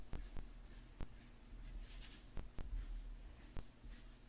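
A tool scoring fold lines into paper for a triple-tier slider craft card, a series of sharp scraping strokes and taps spaced irregularly, close and quiet with no talking.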